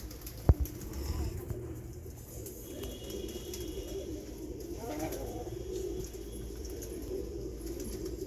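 A pair of Madrasi pigeons with pure Calcutta eyes, a breeding pair, coo softly. Low, murmuring calls come amid a faint rustle and a sharp tap early on, with quiet background noise around them.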